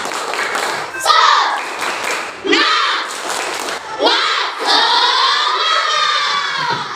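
A group of children chanting and clapping together in a rhythmic classroom clapping chant, loud and lively, with shouted voices and bursts of hand claps.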